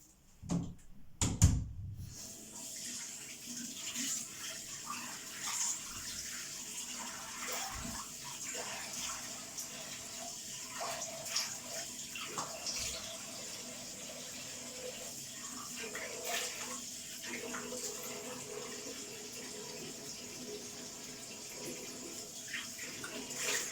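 Water runs faintly and steadily from a tap at a sink while an acne stick face mask is rinsed off, with a clatter near the start and soft splashing throughout.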